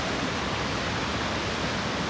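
A Yellowstone waterfall roars as a steady, dense wash of rushing water with no breaks or voices.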